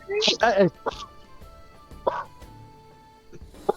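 A man imitates a dog with a few short barking yelps in quick succession, followed by scattered throat noises and brief vocal sounds against a quiet background.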